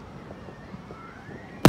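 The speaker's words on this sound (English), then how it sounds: "We will be done with the fireworks any minute." Independence Day fireworks: a low, quiet outdoor hum gives way to a single sharp, loud bang right at the end.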